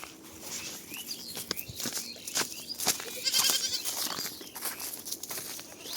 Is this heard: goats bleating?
yes